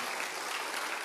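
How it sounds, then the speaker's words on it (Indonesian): An audience at an Indonesian motivational business seminar gives a brief, steady round of applause, a dense wash of clapping that sounds somewhat distant and even throughout. "Tepuk tangan."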